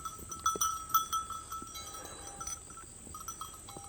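Sheep in a flock bleat at intervals over a faint outdoor background, with a bell clinking now and then, grazing nearby.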